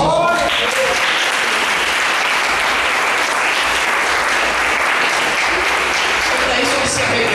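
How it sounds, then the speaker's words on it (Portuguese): Church congregation applauding during a service, a dense, loud, continuous wash of clapping filling the space from start to finish. "aplauso para Jesus"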